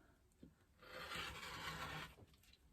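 A rotary cutter trims a fabric quilt block along a 6.5 inch template, a soft, faint, close rasping stroke lasting about a second, with a light tap just before it.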